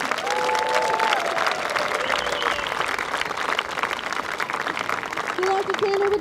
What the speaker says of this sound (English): we'd love to give a big round of applause to all the amazing athletes we had here with this week